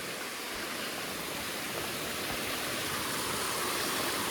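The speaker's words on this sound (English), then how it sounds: "This is called Hardcore Cascades." Hardcore Cascades, a waterfall along the Appalachian Trail, roars in a steady, dense rush of falling water that stays close and constant throughout, with no voices over it.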